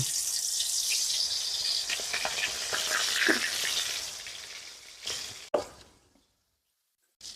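Chicken meat frying in hot oil in a home kitchen gives a loud, close, continuous sizzle that slowly fades, broken near the end by a few clanks and splashes before falling silent.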